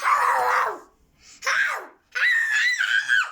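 A voice imitates a dog, letting out three loud, shrill barking yelps with short pauses between them, close to the listener.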